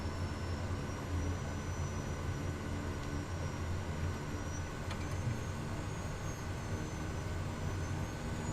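A Kodiak 100 aircraft taxiing in the video game Microsoft Flight Simulator 2020 gives a steady, even engine drone throughout with a constant low rumble and no speech.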